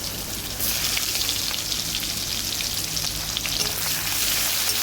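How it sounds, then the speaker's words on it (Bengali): Onions sizzle and crackle in hot oil, a dense steady frying hiss that jumps louder after a moment and continues without talk. "ওই তেলে দিয়ে দিলাম পেঁয়াজগুলো"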